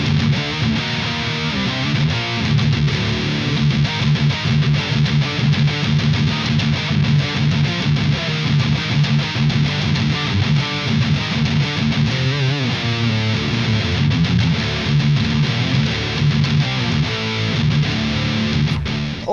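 Electric guitar played through a Marshall 1978 JMP 2203 amplifier with a Fortin Blade pedal in D standard or drop C tuning, a continuous thick distorted rhythm with heavy low end, loud and unbroken with no talking.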